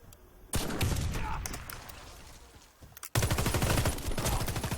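Rapid gunfire and bursts from a shooting video game, with shots cracking continuously across the clip, growing louder and denser in the second half under faint talk.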